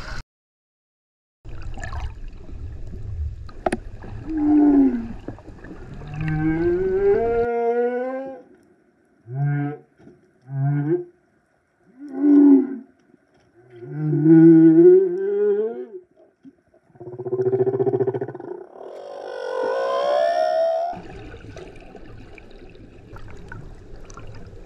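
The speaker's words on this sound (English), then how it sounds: "it's only male whales that sing. Their songs can be heard upon 30 kilometers away." Male humpback whale song recorded underwater off Tonga: a series of long, rising and falling moans, whoops and groans separated by short pauses, clear and resonant, with a low watery rumble beneath.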